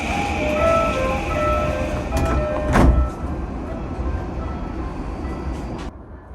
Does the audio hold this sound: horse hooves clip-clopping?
no